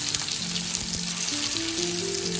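Karunai kizhangu (yam) pieces frying in hot oil with curry leaves, a steady close sizzle throughout with a faint background hum and no talking.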